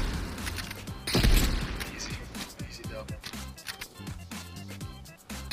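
Gunfire in Call of Duty: Black Ops Cold War, sniper gameplay: a loud burst of shots with a heavy boom near the start, then sporadic thuds and cracks under frequent talking voices.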